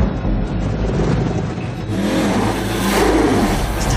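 A rear-wheel drive minivan on big tires spins its wheels off-road, its engine revving hard and loud while the tires churn and roar, and the pitch climbs near the end.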